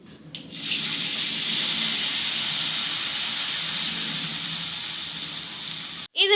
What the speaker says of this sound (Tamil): இனி இதில் நம்ம எடுத்து வச்சிருந்த புளி தண்ணி சேர்த்துக்கலாம்.